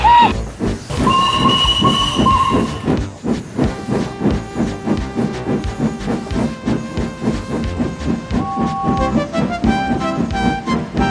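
A steam train chuffs rhythmically with hissing steam while sustained whistle tones sound over it, loud and close, with no talking.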